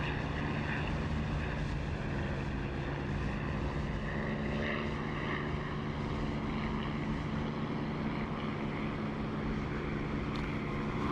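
A video game propeller plane engine throttling back drones steadily and loudly throughout, a continuous throbbing roar with no voices.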